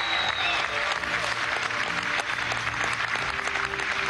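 Sustained applause from a crowd at a political party primary results announcement in Venezuela, dense and continuous throughout with a murmur of voices underneath.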